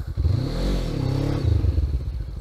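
A motorcycle engine is revved hard with the throttle during a riding lesson, rising from idle into a loud, throaty roar that holds, then drops back to a lumpy, pulsing idle, close to the microphone.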